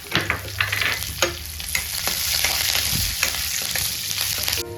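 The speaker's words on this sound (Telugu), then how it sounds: "ఇదే కళాయిలో సేమ్ 2 టేబుల్ స్పూన్ ఆయిల్ వేసుకొని పోపు గింజలు వేసేసుకోవాలి" A tempering of dried chili, garlic and curry leaves frying in two tablespoons of oil in a kadai, a steady close sizzle broken by repeated scraping stirs and small clicks of a spoon, no talking.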